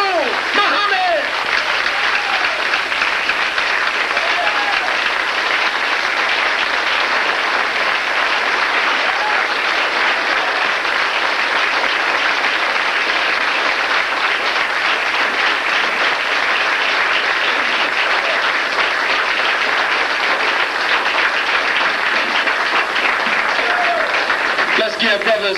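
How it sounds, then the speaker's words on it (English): A large audience applauds continuously and loudly for a long stretch to welcome Minister Khalid Abdul Muhammad, a dense wash of clapping with crowd noise and occasional voices mixed in. "Let's give him a round of applause."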